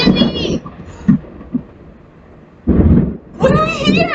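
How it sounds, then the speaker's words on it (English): Rumbling thunder in a children's lesson on stormy weather rolls low and heavy between stretches of talking, with a quieter deep rumble in the middle. "Yes, the thunder."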